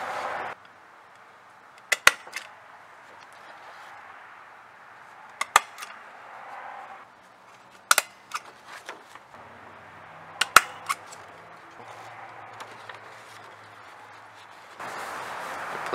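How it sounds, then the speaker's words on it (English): Sheets of paper being stapled together at home: a handful of sharp, separate clicks spaced a few seconds apart against a quiet, low hum, with no talking. "But first, what I should do is staple these together."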